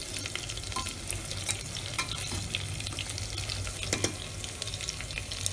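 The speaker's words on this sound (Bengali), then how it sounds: "ভালো করে একটু নাড়িয়ে নেব।" Potatoes and masala frying for mutton curry in a pan, a continuous close sizzle with frequent scraping stir strokes and light clinks, no one speaking.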